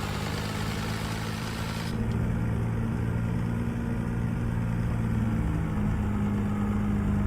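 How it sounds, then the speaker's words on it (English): Steady, even drone of a Peterbilt truck engine idling in American Truck Simulator, a constant low rumble that holds unchanged throughout with no voices. "Yeah, it's a good sounding engine, man."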